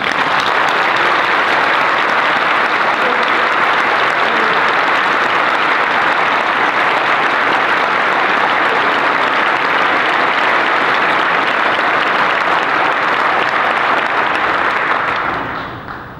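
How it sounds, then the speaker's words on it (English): A large crowd at a graduation luncheon claps loudly and continuously in a dense, unbroken wash of applause that fades out in the final second. "Let's give the staff of Mercy Home a round of applause."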